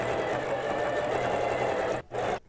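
A home sewing machine stitching a cushion cover runs steadily with a fast, even mechanical whir and needle rhythm, loud and close, stopping abruptly near the end before briefly starting again.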